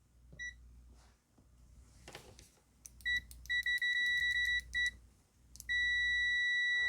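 A ZOYI ZT-R01 multimeter in continuity mode gives off several sharp, steady electronic beeps of varying length, close and loud, with short gaps and a long final tone, following some faint handling noise.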